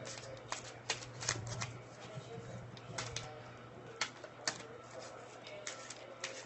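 Cards are shuffled repeatedly, with quick riffling bursts and soft snaps at an irregular pace over a low steady hum, fairly quiet and close.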